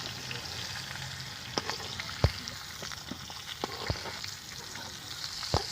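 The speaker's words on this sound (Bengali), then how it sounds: "আমি সিমগুলো ভেজে নিলাম" Flat beans fry in a pan for a bean and paneer dish, giving a steady close sizzle. Scattered sharp pops and light clicks of stirring punctuate the sizzle throughout.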